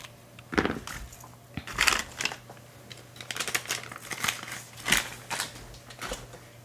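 Scissors trimming ribbon tails on a handmade diamond gatefold card, several short close crisp snips and rustles of ribbon and paper spaced irregularly over a quiet room hum.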